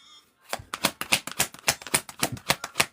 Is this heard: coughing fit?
no